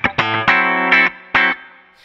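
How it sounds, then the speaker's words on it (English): Electric guitar run through a Line 6 Helix Deluxe Comp compressor set very aggressively, with distortion: a few loud, squashed strummed chords with sharp attacks and sustained ringing, alone and close. "So first of all, the deluxe comp would sound like this."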